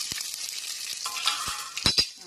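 Spices tempering in hot coconut oil for a South Indian dish, crackling and sizzling steadily up close, with a few sharper pops and a brief clink of utensils near the end.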